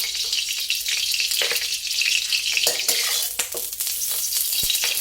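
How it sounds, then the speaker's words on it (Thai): Garlic sizzles in pork lard over medium-low heat, a dense steady crackle with occasional stirring scrapes in the pan, close and continuous. "ใส่กระเทียมลงไปเจียวให้หอมค่ะ ใช้ไฟกลางค่อนข้างอ่อนนะคะ"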